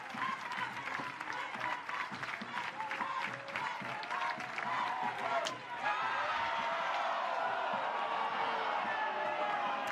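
College softball crowd at a game between Oklahoma and California, clapping and cheering in the stands while awaiting a strikeout call, with a commentator talking over it before the noise swells into a steady roar.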